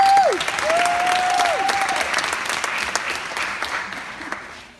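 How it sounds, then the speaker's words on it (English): Big audience applause at a summer Saturday event, steady dense clapping throughout, fairly loud and close, with a few whistles near the start and slowly tapering toward the end. "Give yourself a big round of applause."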